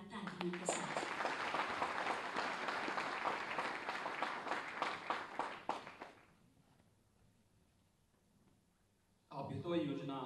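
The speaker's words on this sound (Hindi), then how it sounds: "आप सबकी जोरदार तालियों के साथ" Applause from the audience at a government scheme launch event led by the Uttar Pradesh Chief Minister, a dense, steady clapping that fills the first six seconds then dies away, followed by a pause before a voice begins speaking.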